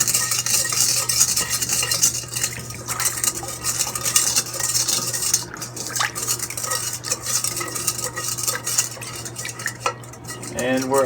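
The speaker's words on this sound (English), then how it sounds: "stir it." Flour and salt being stirred for jalapeno cheddar artisan bread dough: a utensil scrapes and clinks against a bowl in steady, uneven strokes for about eleven seconds, close and fairly loud over a low background hum.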